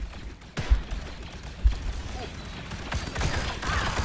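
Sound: gunfire in five-round bursts, from video game Contractors VR

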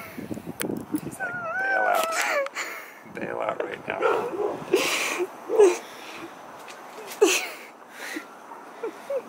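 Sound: dog barking

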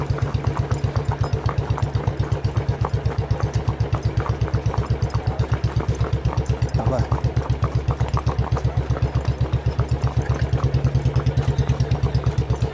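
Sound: motorcycle engine running

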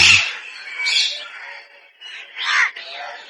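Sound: parrots squawking

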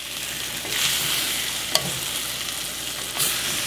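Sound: stirring Chinese sausage sticky rice in a pan

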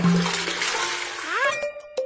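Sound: toilet flush in a cartoon

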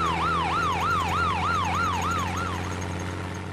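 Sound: ambulance siren

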